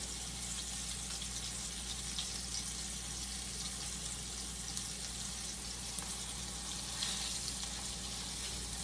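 A steady, continuous sizzle of food frying in a pan, close and even, with a faint low hum underneath.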